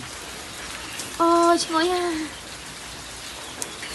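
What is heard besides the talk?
rain falling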